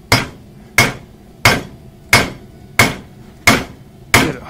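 Eight evenly spaced heavy hammer blows strike a hot railroad spike on an anvil at a home forge, each a sharp ringing clank that quickly decays, steady and close.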